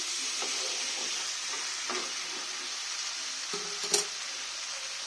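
Mutton gravy sizzles steadily in a pan while being stir-fried with a little sugar, a continuous hiss broken by a few soft scraping knocks of the spoon and one louder clatter near the end.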